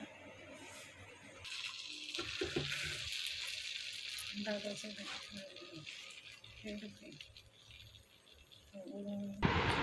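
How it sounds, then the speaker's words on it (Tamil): A dosa frying on a stove gives a steady, faint sizzle with light rattling and stirring sounds, mostly under a voice talking over it. "தோசைகளை அடுப்பில் வச்சு அடுப்பை பற்ற வச்சுக்கிடுவோம்"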